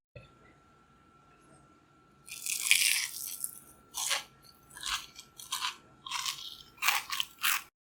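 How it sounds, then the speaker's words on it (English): Crispy panko-breaded chicken is bitten and chewed close to the mic, giving a sharp first crunch followed by a run of loud, crackling crunches in an irregular rhythm, with no talking. "If you don't believe me, here's a crunch test."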